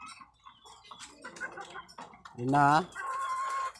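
Backyard chickens cluck and a rooster-like call rises in the middle, a loud harmonic burst followed by a sustained tone, with light talk earlier in the clip.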